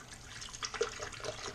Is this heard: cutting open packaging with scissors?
no